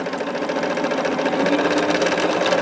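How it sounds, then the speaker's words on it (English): A sewing machine runs steadily, stitching quilt hourglass triangle pieces together with a fast continuous mechanical whir and needle chatter, close and alone with no talk. "Now, I probably am going to sew a little over."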